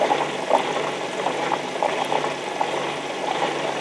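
A heated water bath for film developing circulates its water with a steady bubbling, gurgling wash, close and even throughout.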